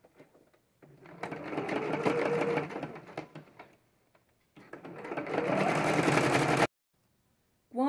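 A sewing machine stitches a multipurpose envelope wallet in two steady, close bursts of rapid whirring, separated by a brief pause, then stops.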